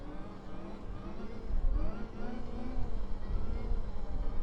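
Electric dirt bike popping a wheelie on a trail: a steady whirring motor hum that swells a little as the bike lifts and rolls, with wind noise and no talking.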